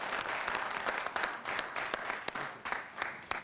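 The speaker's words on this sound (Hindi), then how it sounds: "अश्विन जी के लिए तालियां बजाएं।" A studio audience claps for Ashwin, a lively burst of many hands with sharp individual claps punching through, sustained and close throughout.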